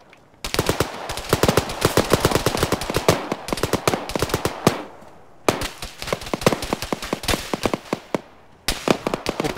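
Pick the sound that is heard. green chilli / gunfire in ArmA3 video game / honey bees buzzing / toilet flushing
gunfire in ArmA3 video game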